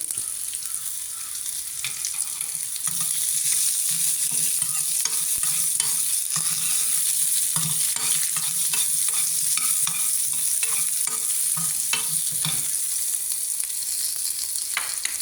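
Curry leaves frying in oil for mango chutney, a continuous close sizzle with a steady rhythm of stirring scrapes running throughout.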